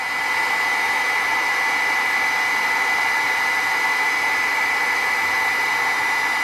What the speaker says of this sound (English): what I'm going to do is I'm going to melt this real quick with my heat gun